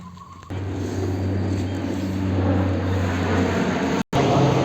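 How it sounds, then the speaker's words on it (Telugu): A helicopter flies over Lalbagh botanical garden in Bengaluru, giving a steady low engine and rotor drone that holds at moderate loudness through the clip, heard with no talk. "లాల్బాగ్ నుంచి హెలికాప్టర్ వెళ్తా ఉంది."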